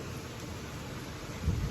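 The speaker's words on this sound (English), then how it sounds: "You hear the thunder?" Low thunder rumbles faintly during a rainstorm, a soft steady wash of rain with a brief deeper swell near the end, distant and quiet.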